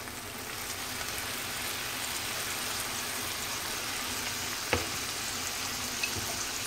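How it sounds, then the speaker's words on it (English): Salmon sizzles in a frying pan with a splash of sherry as it is stirred, a steady hiss throughout with a single sharp utensil scrape near the end and another faint knock after. "I'm going to stir a little bit. I'll add some sherry now just to prevent the bottom of the pan from drying."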